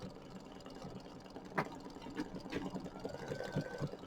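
An embroidery machine stitches a wreath design onto a bench pillow, giving a steady, close mechanical whir with a few brief clicks and bumps partway through, and no talking.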